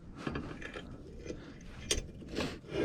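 A bolt on a welded vise mount for a crawler hauler is tightened down with a ratcheting tool, making a series of close, quiet ratchet clicks and metallic ticks with no talk.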